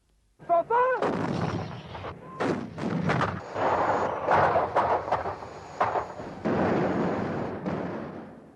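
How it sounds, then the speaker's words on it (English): Artillery fire in the Falklands War, a sequence of heavy booming blasts and thuds with rumbling tails, loud and close, overlapping rapidly across the span. "learning how to use our artillery fire much more intimately than originally"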